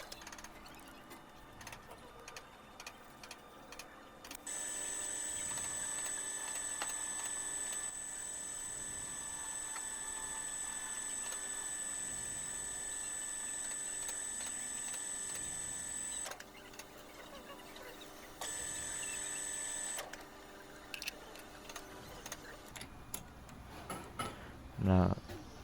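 A lathe faces an aluminum ring with light passes, a steady mechanical whine with high tonal ringing that runs for long stretches, stops, and briefly resumes, with quiet shop ambience between.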